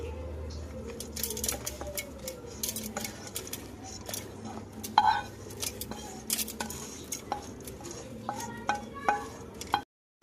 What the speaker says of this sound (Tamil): அதில் சேர்த்து நல்லா வதக்கி விட்டுக்கலாம்